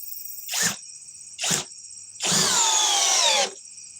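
Power drill driving into a previously drilled hole: two short bursts followed by a longer run of about a second, loud and near, its motor whine sliding in pitch, with no voices.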